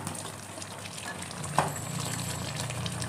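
Prawn malai curry made with coconut milk simmers and sizzles steadily in a pan while it is stirred, a continuous close bubbling hiss with one sharper scrape of the spoon partway through.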